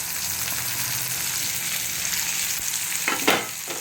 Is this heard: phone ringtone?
no